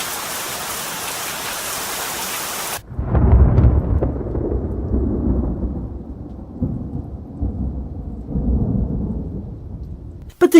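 A thunderstorm with heavy pouring rain: a deep, rolling thunder rumble comes in after a few seconds and keeps swelling and fading over the steady hiss of rain, with no voices.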